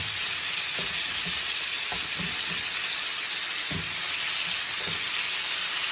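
Garlic herbed lamb chops fry in a pan with a constant, dense sizzle and hiss close by, broken by a few soft knocks and utensil taps.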